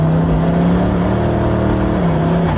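Koenigsegg Regera hypercar on a race circuit pulling hard after a paddle downshift, its engine holding a loud, steady rising drone close up with strong harmonic layers, no talk.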